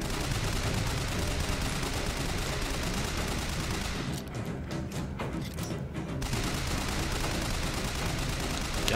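Sustained rapid gunfire from the video game Bioshock Infinite, a dense continuous fusillade of shots at steady loudness throughout, with a brief thinner stretch midway before the firing resumes at full intensity.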